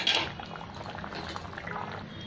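Fish curry bubbles and simmers in a pot on a gas stove, a soft close gurgling and bubbling with a brief louder splash at the start.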